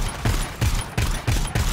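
A video game sentry gun fires in quick repeated bursts, each volley a loud, close rattle, about four or five pulses in under two seconds with no talking.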